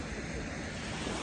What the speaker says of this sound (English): just love the sound of the sea